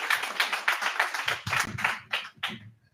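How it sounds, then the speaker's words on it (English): Audience applause at an AI meetup as a startup team is called up to pitch; scattered hand claps stay fairly loud, then thin out and fade over about three seconds. "Let's give a huge round of applause to Spellbound AI."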